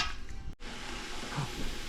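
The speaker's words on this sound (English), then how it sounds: "It's a frying sizzle. Sauteing sizzle." Celery sautés in a pan for sausage jambalaya, a steady close frying sizzle with stirring and a brief utensil knock, broken by a momentary cut near the start.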